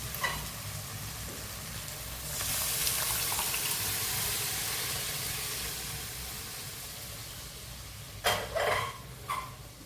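Water poured into moringa drumstick-leaf dal cooking with fried spices, a bright rushing hiss that swells over the simmering sizzle for several seconds, followed by a few stirring clatters near the end.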